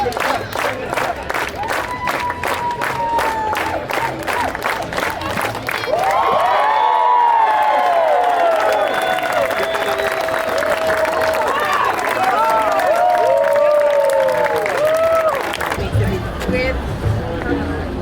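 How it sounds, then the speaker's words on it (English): A tour group on a haunted night walk in Key West claps steadily, then breaks into loud cheering and whooping that carries on for several seconds before the clapping trails off. "Everybody clap"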